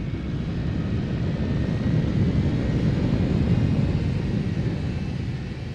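Space Shuttle Endeavour's launch rockets thunder in a continuous, loud, deep roar that holds steady with no pauses or voices, carrying the final parts of the International Space Station aloft.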